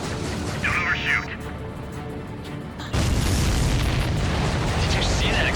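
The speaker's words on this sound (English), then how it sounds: "Did you see that explosion?" A supply ship exploding during an island attack mission in the Ace Combat 7 video game: a sudden loud, sustained boom rumbling over engine roar, with brief radio-style voices before it.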